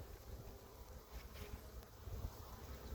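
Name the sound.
honey bees buzzing on comb frame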